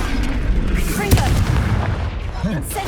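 Confringo blasting-spell explosion in the Hogwarts Legacy video game: a sharp, loud burst near the middle, set among other spell effects and a busy, continuous game soundscape.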